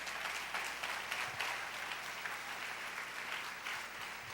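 Church congregation applauding during a service, a soft, even wash of many hands clapping in a room, faint and sustained with no talk over it.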